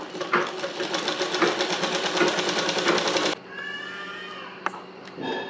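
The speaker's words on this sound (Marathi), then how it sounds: "आता आपण ह्याला शिलाई मारून घेऊया" A sewing machine stitches a border onto fabric with a fast, even mechanical rattle for about three seconds, then stops, leaving quieter handling noises and a couple of light clicks.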